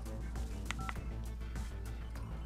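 A phone is dialed in the NCIS video game, with a few short keypad tones beeping in quick succession over a constant low background hum.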